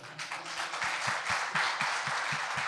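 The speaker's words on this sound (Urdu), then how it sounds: "بھرپور تالیاں آپ کی ہونی چاہیے" A church congregation clapping, soft, fairly sparse claps in a loose rhythm, distant-sounding and steady over a low background.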